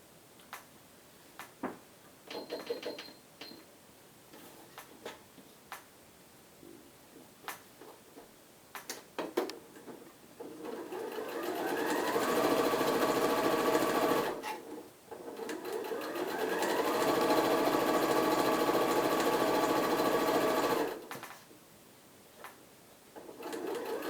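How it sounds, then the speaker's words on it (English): A sewing machine stitches two face mask fabric pieces right sides together with a quarter-inch seam, running in two long steady bursts after a stretch of quiet handling clicks. "So you're going to stitch both pieces together, both sides together, right sides together."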